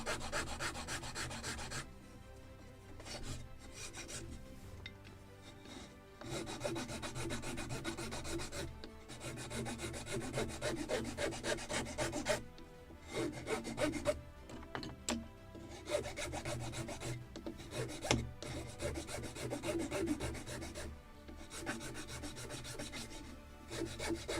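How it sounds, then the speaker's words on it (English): A hand file rasping across wood on a model ship kit of the 1776 gunboat Philadelphia, a quiet, close, steady back-and-forth scraping in rhythmic strokes with brief pauses. "let me even it a little with the file."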